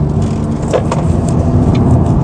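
An Audi S3 engine pulls under part throttle on a test drive, a steady mid-level drone heard from inside the car that builds slightly toward the end, with no voices.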